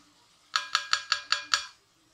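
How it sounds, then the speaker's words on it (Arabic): Six evenly spaced bright clinks of a utensil against a bowl while flour is mixed into clafoutis batter with apricots, quick and close, then quiet. "نخلطوها مليح باش ما يكونش عندنا لي غريمو"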